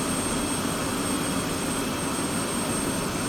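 F-16C jet engine in the DCS flight simulator during a cold-and-dark startup, a steady, loud whining roar with a high tone, continuous and without talk.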